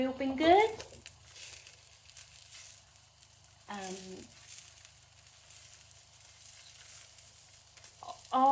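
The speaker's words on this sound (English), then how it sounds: "while I'm browning off the sausages" Sausages browning in a pan for a sausage casserole, a steady low sizzle running throughout with brief bursts of someone talking near the start, middle and end.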